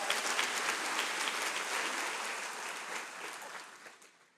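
Dense applause from a church congregation, a steady wash of many hands clapping that fills the room, fairly distant and gradually fading toward the end.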